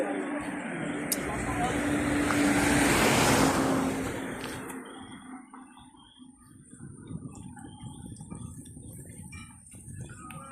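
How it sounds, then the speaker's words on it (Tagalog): Strong ocean waves at a beach resort in Infanta, Quezon province, a broad surge of surf rising loud over the first few seconds then easing into a steadier wash, with voices and background activity underneath. "Tatangayin din niya ng alon. Lakas ng alon."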